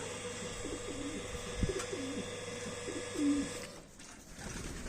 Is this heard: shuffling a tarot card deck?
no